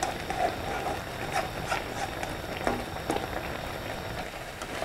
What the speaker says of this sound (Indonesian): Kita aduk-aduk ya supaya merata bumbunya, supaya menyerapnya itu sempurna ke tempenya.